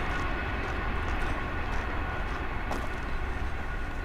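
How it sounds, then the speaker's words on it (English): A steady low rumble and roar of a train rolling past Forrest, Australia, on a long straight desert line at a distance, continuous with no voices. "That's a train coming past Forrest on the longest straight bit of line in the world."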